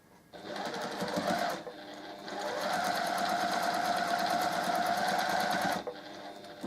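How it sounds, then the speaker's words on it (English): A sewing machine stitches a flying geese quilt block in a steady, buzzing run, close and loud, with a brief pause partway through and no voices. "I'm just going to make sure then that they don't get tucked over when I'm stitching."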